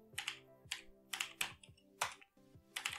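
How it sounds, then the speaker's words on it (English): Keys clack on a computer keyboard as a command is typed into a terminal on Debian 9, in short uneven bursts of crisp, close keystrokes with small gaps between them. "the first step is to open up a terminal and type sudo apt-get install"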